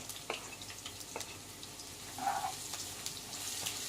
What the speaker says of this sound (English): Look at it sizzling.